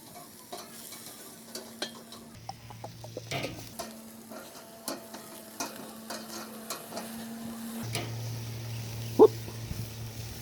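Bratwursts searing on a charcoal grill grate give off a quiet, steady sizzle, with scattered sharp clicks and scrapes of tongs moving the brats. A low hum runs underneath and no one speaks.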